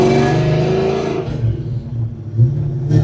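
A 1983 Ford Mustang Foxbody, rebuilt from rust and now running a 351 engine in place of its original 302, rumbles and revs as it pulls away, its low exhaust note loud and close with rising and falling throttle.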